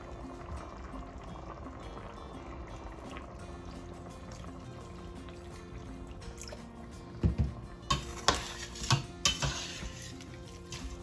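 Water and remaining ingredients for a homemade carne al toro beef stew go into a boiling pot on the stove, with a steady bubbling hiss underneath and a burst of clanking, splashing pot and utensil knocks near the end.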